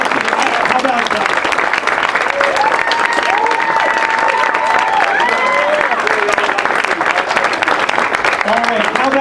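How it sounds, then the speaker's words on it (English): A large event crowd applauds and cheers steadily for competing startup teams, dense clapping holding loud and unbroken throughout, with a few whistles and raised voices rising above it. "how about another round of applause for all the participants, all the teams?"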